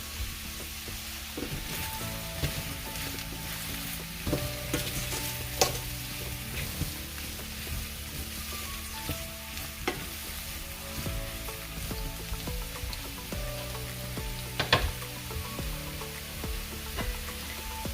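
Beef and vegetables sizzle and fry in a pan for beef stroganoff, a steady crackling hiss broken by the scrape and clatter of stirring, close and continuous with no voices.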